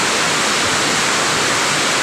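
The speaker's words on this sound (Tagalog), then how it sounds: "Napakalakas ng ulan guys." Heavy rain pours down in a dense, constant hiss, loud and close, with no other sounds standing out.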